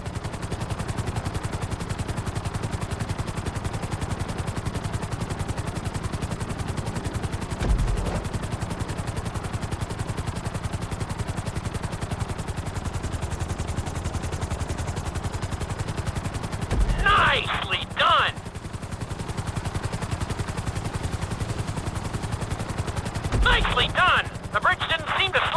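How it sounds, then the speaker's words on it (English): A helicopter in Grand Theft Auto V drones with a continuous rotor and engine hum, with a few short bursts of gunfire-like rattling cutting in partway through. "we'll see how well you handle the chopper"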